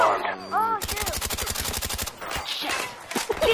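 Rapid automatic gunfire in the video game Call of Duty Black Ops, a loud close burst of evenly spaced shots lasting over a second, with game sounds and voices around it.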